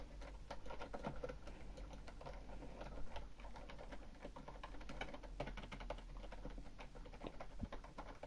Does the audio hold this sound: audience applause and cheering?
no